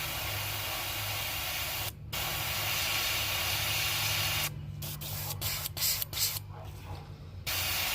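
An airbrush sprays thinned paint onto a model of a red breasted sunfish in a steady, soft hiss with a low hum underneath, broken by one short pause and then a run of quick on-off bursts near the end.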